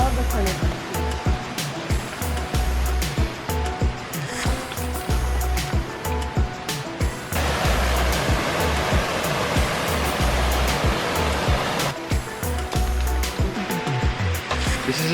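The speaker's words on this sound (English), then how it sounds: "The water, we are following it as we're getting closer to the waterfall, so we can hear it just bubbling" A stream bubbling and rushing near Manoa Falls on a tropical Hawaii trail, a continuous close water wash that carries on for many seconds, with a few soft bumps and a steady low rumble beneath.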